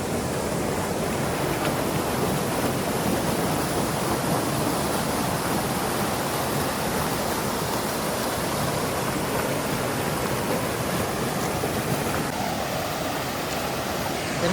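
A monsoon waterfall pours in an unbroken, dense rush of water, loud and close, with no voices over the steady roar.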